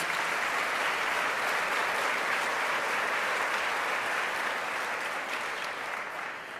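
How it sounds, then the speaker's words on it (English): Steady, sustained applause from a large crowd at a university address, dense clapping filling the whole stretch and tapering slightly toward the end. "Let's give them all a well-deserved round of applause."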